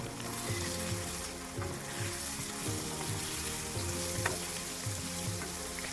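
Potatoes and tomatoes fry and sizzle in a pan with turmeric while being stirred, a steady close sizzle with rhythmic scraping strokes and no talk.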